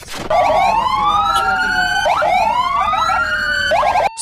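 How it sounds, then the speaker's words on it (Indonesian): Wailing siren of uniformed forces' vehicles, loud and close, rising and falling in repeated sweeps with a brief yelp between cycles. "sirena pasukan berseragam"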